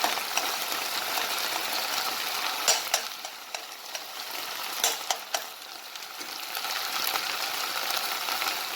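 Tomato paste sizzling and frying in a pan for a macaroni meat sauce, a steady close crackle with occasional sharper pops and stirring scrapes, no voices.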